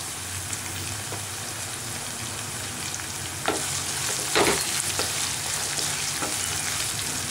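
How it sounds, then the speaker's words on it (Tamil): Onions sautéing with curry leaves in a pan for Tamil tomato rice, giving a steady close sizzle with a few sharper crackles and spatula scrapes midway; no voices. "வெங்காயம் நல்லா வதங்கட்டும், கருவேப்பிலை போட்டுக்கலாம்,"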